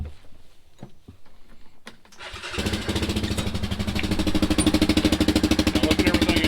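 A Yamaha Viking UTV engine cranks and starts up, then settles into a loud, rough, pulsing idle with strong rhythmic vibration. The engine sound is heard up close with no talking.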